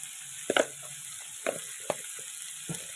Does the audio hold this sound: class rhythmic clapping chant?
no